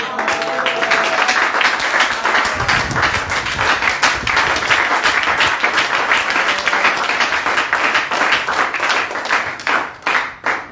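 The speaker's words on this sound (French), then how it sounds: "j'aimerais qu'on acclame fortement le Seigneur" A church congregation claps and cheers in praise of the Lord, sustained dense applause filling the room for several seconds before tapering into scattered claps.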